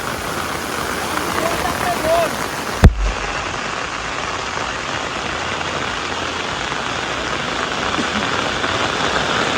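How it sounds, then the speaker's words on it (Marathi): Heavy monsoon rain pours steadily in the Konkan countryside, a dense, close, loud hiss that runs unbroken throughout, with one sharp thump near the start. "पाऊस वाढलो."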